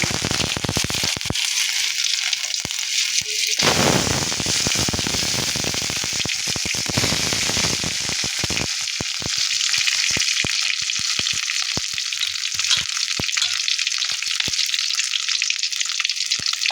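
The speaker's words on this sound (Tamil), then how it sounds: "கடுகு உளுந்தம் பருப்பு போட்டு தாளித்து" Mustard seeds and urad dal sizzle and crackle in hot oil in a kadai, a loud, continuous frying hiss dotted with sharp popping bursts, with no voices over it.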